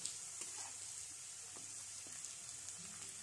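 Garlic-coated French fries frying in hot oil, giving a steady, soft sizzle with faint crackles throughout and no voices.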